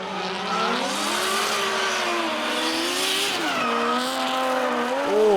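Race cars at full throttle coming out of a corner onto the straight, loud close engine roar with rising and falling pitch and a brief tire squeal near the end, no talking.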